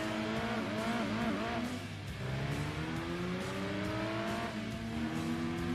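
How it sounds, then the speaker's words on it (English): A car engine in Gran Turismo 2 revs hard with rising and falling whines as it accelerates and shifts, loud and continuous with no talk over it. "Oh, look at those revs."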